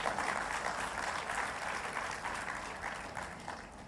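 An audience at a tea association AGM applauds a chief guest's speech, a steady round of clapping that starts strong and slowly tapers, somewhat distant and moderate in level.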